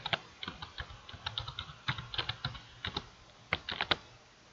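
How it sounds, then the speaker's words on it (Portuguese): A computer keyboard is tapped in quick irregular bursts of keystrokes while a password is entered, close and clear in a quiet room, with short pauses between groups of clicks. "Vou bater a senha do usuário Guilherme."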